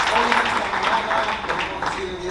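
Church congregation applauding to honor the Lord, a steady mass of clapping through the whole stretch, mixed with voices and room noise in a busy sanctuary.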